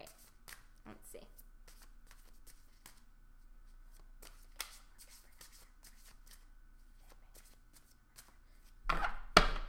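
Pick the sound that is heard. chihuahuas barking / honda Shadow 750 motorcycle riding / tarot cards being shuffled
tarot cards being shuffled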